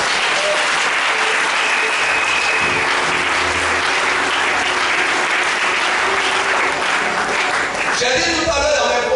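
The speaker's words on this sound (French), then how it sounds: "Acclame fortement le Seigneur." A church congregation at a Sunday service applauding loudly and continuously, a dense wash of clapping, with voices and cheers mixed in and a rhythmic surge toward the end.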